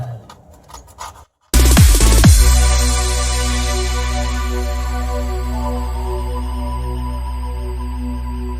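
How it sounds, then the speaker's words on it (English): Scraping caked dirt from a Traxxas Slash RC car with a wooden dowel gives a few short rough scrapes, then a loud, sustained rasping hum that fades to a steady lower drone, heard close. "So you're going to want to just get into those little cracks, scrape out some of the dirt."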